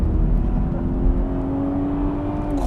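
The 2023 BMW Z4 M40i's six-cylinder engine and exhaust give a steady, loud droning hum while it drives through a tight left-hand corner, with no talking.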